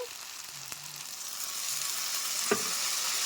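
Fried eggs simmering in a masala of sautéed onion, garlic and potato with a splash of water, giving a steady soft sizzle with a brief clatter of a utensil partway through.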